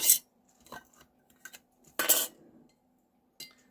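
A glass jar of water is set down on a tabletop with a few sharp clinks and knocks, and one brighter clatter partway through, in an otherwise quiet room.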